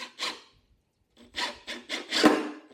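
A screw is driven into wood with a cordless driver in short bursts, a quick first burst, a pause, then several rapid grinding pulses as it bites in, close and fairly quiet, with no talk.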